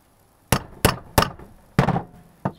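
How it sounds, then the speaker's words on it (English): A ball peen hammer strikes sharply five times at uneven intervals while making catapult pouches, each blow loud and close with a brief ringing decay, the last one lighter. "Smash it with ball peen on."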